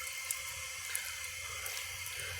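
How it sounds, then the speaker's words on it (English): Water steadily hisses and trickles as a 1987 Norris toilet tank refills through its fill valve, a close, continuous rushing flow with faint drips and no talking. "I'll just see if it takes it when the tank is finished filling"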